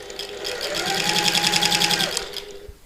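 A sewing machine stitches a bag's gusset seam, running in a steady rapid whirring burst of about two seconds, close and clear, then stopping.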